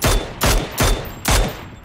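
Gunfire in a shooter video game comes as four loud, evenly spaced bursts of shots, each with a sharp attack and brief decaying tail.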